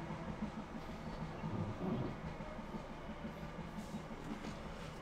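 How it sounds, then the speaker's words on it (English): A train rumbling past in the Train Simulator 2014 video game, a steady low roar with faint clickety-clack, moderately loud and unbroken, with no talking. "Am I waiting for that train or what?"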